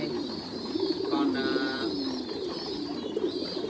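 Pigeons on a Vietnamese pigeon farm coo in soft, low, rolling calls, a continuous murmur of several birds close by with a faint chirp over it.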